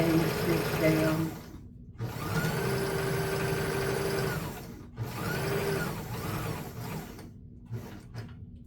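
A sewing machine stitches a small quilted mug rug in several whirring bursts of rapid needle hum, separated by short pauses, close and steady.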